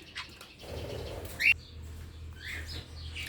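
Pet budgies and a cockatiel indoors give a few short chirps and tweets, one sharper call standing out midway, over a low background hum.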